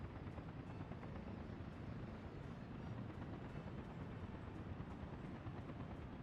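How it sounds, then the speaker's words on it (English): Construction helicopters in the video game Workers & Resources: Soviet Republic fly in with a steady, even rotor thrum that sits at a moderate distance and runs alone without a break. "the helicopters just come flying in out of nowhere"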